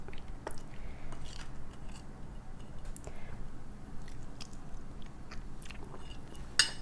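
Close, faint chewing and biting on Nepali momo dumplings served with jhol, a tangy sauce made with lapsi, sesame seeds and peanuts. Soft, irregular mouth sounds sit over a steady low background hum with no talking.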